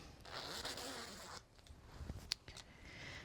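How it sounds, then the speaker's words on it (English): A hoodie zipper being unzipped, a close, rasping pull for over a second, then a pause and a few shorter zips and clicks of the slider. "now we need to unzip the zipper again"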